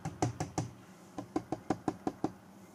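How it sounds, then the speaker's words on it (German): Knuckle taps on a camera tripod during a test of Rode VideoMicro and VideoMic GO 2 microphones: three quick knocks, a short pause, then a steady run of seven more, close and fairly soft, with no talking. "ich klopfe zwischendurch jetzt mal an das Stativ"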